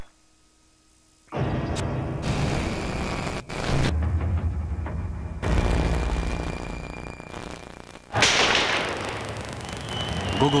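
Sharp gunshots ring out in Moscow during the August 1991 Soviet coup, several loud cracks spaced a few seconds apart over a noisy outdoor scene, each followed by echoing reverberation and crowd or street noise.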